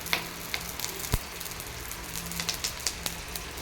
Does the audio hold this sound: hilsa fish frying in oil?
yes